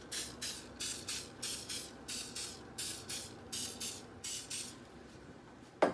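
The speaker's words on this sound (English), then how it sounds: "But I'm going to spray with some coconut oil spray." Coconut oil cooking spray is sprayed onto a non-stick pan for keto muffin cookies, heard as about a dozen short, evenly spaced hissing bursts in a steady rhythm, close and moderately loud, followed by a single sharp knock.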